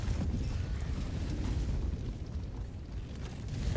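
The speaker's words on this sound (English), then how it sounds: "Just to let the napalm barrage do some work while we go grab these codes." A napalm barrage in Helldivers 2 keeps rumbling and booming, a steady low roar of explosions and fire that holds loud for the whole stretch without clear gaps.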